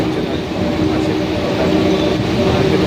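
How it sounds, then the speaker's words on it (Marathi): Steady rumbling rattle of a local commuter train running, heard from inside the carriage as a constant broadband roar with no pauses. "आता लोकलने चालले."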